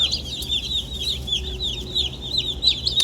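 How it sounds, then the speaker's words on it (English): Young meat chicks in a brooder barn keep up rapid, high, overlapping peeping, heard close and continuous over a low background hum. "We are back in our brooder barn. Just received another batch of meat chicks."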